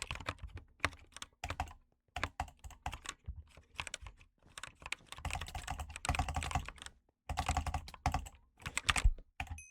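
Rapid bursts of clacky keystrokes on a mechanical keyboard during a game, loud and close, arriving in dense flurries separated by brief pauses.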